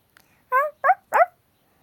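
A small dog gives three short, close yips or whimpering barks in a quick row, with quiet pauses between them, in a home shared with cats and dogs.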